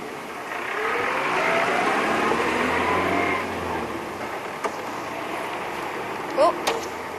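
A car drives past, at dusk on a wildlife safari outing. Its engine rises into a broad rush over a few seconds and fades away, followed by a couple of sharp clicks.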